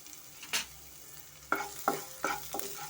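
Onions frying in a pan of tempering with fenugreek greens, a soft steady sizzle broken by five sharp scraping stirs of a spoon, close and alone without any voices.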